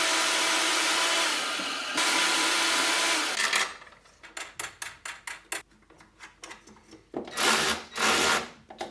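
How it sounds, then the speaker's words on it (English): Power tool cutting through a metal mount during an LS1 swap on an E36, a loud sustained grinding whine that stops, then a series of short choppy bursts and a final longer cut. "What I'll end up doing is cutting this off down here."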